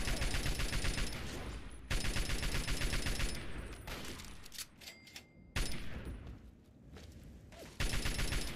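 Bursts of automatic gunfire in Fallout 3, loud sustained volleys broken by short pauses and scattered single shots, with no one talking.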